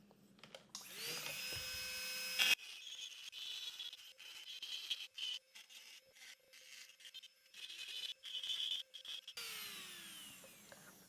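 Rotary tool fitted with an aggressive burr carving a scroll-saw cut wooden cat, its high whine starting and stopping in short bursts as the bit grinds into the wood, close and fairly quiet.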